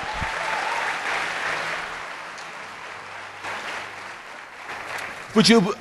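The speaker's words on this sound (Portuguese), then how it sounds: "Eu quero dar um aplauso para vocês." Church congregation applauding during a Portuguese-language sermon, a broad steady wash of clapping that fades gradually, with brief voices and a short louder burst near the end.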